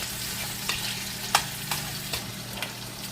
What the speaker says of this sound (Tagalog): caramelize lang natin yung onion natin